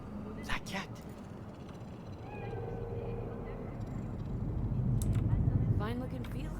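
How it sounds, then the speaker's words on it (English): A cat meows a few times in the Cyberpunk 2077 video game, faint and intermittent beneath a steady game ambience and a person talking over it. "It's Kit Kat! Do you see it? That cat."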